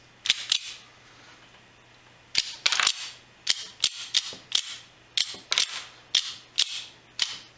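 Krikit 25 gun mechanism being loaded and cycled without a firing pin, giving a series of sharp mechanical clacks: two quick clicks, a pause, then a steady run of paired snaps, close and loud with no talking.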